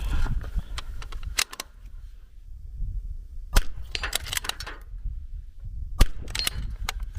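Two sharp rifle cracks from a Zermatt Rim-X bolt-action .22LR during an NRL22 reliability test, spaced a couple of seconds apart, loud and close over a low background rumble with fainter clicks and handling noise.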